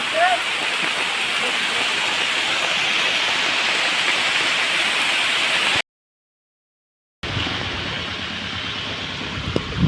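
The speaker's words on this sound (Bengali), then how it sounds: "খারাপ বৃষ্টি হচ্ছে না ভালোই হচ্ছে" Rain falls steadily on a farm field during tractor ploughing, a loud, even hiss that stops abruptly for a moment of silence and then resumes, with faint thumps near the end.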